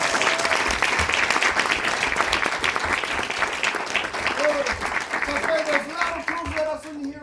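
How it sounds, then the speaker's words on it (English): An audience at a Maori cultural village in Rotorua, New Zealand, bursts into vigorous clapping, dense and fairly close, with a voice speaking over it near the end as the applause thins out. "Thunderous applause"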